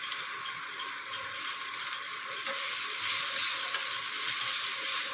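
Chopped onion fries in a pan already holding whole garam masala, giving a steady close sizzle with faint stirring scrapes and no voices.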